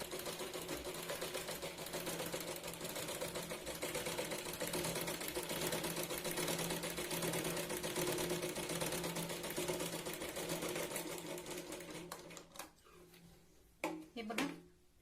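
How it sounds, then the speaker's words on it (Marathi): A sewing machine stitches around the neckline of a katori blouse in a steady, rapid mechanical whir that runs for about twelve seconds, then stops, leaving a few faint clicks and handling noises. "पूर्ण गळ्याला याच पद्धतीने आपण शिलाई लावून घेऊया"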